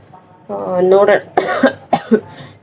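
A woman with a cold, caught after getting wet in the rain, coughs several times in short harsh bursts at close range, right after speaking a few words.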